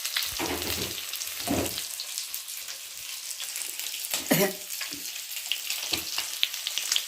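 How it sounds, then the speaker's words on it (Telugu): Fish fries in a pan with a continuous hissing sizzle, punctuated by louder bursts of crackle and spatter as pieces are moved or turned, close and without talk. "ఫిష్ ఫ్రై చేస్తున్నాను సగం"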